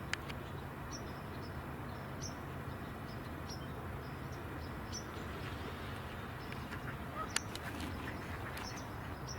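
Ducks and geese calling outdoors, a steady chorus of distant quacks and honks repeating over constant background noise, with a few sharper calls standing out and no talking.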